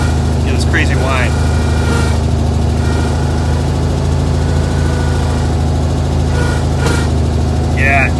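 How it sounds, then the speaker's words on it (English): An idling car engine drones with a continuous metallic whine from a failing clutch throwout bearing layered on top, steady and loud throughout, with the clutch pedal pushed in. "when I push in the clutch, it makes this horrible whining sound"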